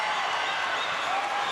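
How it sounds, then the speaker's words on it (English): Dense crowd applause and cheering fills an arena after a made free throw at a BAL 2023 basketball game in Kigali, an even, sustained roar throughout. "The crowd absolutely involved in every single free throw attempt."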